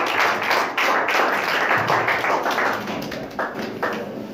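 A group claps hands together in a short, dense burst of applause, fairly loud and close, with no voices.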